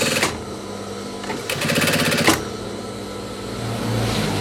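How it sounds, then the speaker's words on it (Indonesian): A sewing machine runs in steady bursts while stitching the thick denim back panel of a jeans jacket, its motor whirring close and fairly loud with a brief faster stretch midway. "untuk menjahit jaket jeans ini tenaga itu dibutuhkan lebih ekstra, karena kainnya itu saya rasa itu tebal sekali"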